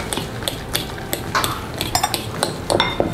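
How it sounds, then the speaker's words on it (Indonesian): A spoon scrapes and clinks steadily against a bowl while raw egg white, salt and seasoning are mixed into a mashed tofu mixture, giving quick irregular metallic taps and stirring sounds up close, with no voice. "putih telur mentahnya kita campurkan. Pakein garam, kasih micin, kita aduk rata"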